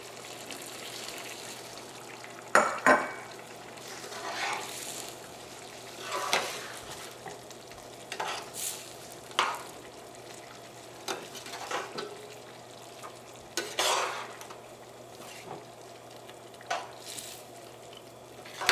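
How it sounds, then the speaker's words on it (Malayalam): Karaikudi chicken curry gravy bubbles in a pan as ground coconut paste is added and stirred in, giving soft intermittent scraping, gentle sizzle and wet stirring sounds, fairly quiet and close. "കറിയുടെ ഗ്രേവി നന്നായിട്ട് തിളച്ചിട്ടുണ്ട് ഇനി ഇതിലേക്ക് നമ്മൾ അരച്ച് വെച്ചാണ് തേങ്ങയുടെ പേസ്റ്റ് ചേർക്കാം"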